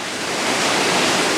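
Waterfall at the Doran cascade climbing crag in the Arve valley, Haute-Savoie, a continuous broad rush of falling water, loud and close, with no voices.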